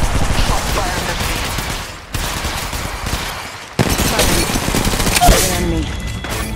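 Dense video game gunfire rattles through nearly the whole stretch in rapid automatic bursts, loud and close, with two brief dips in the shooting and faint voices mixed in.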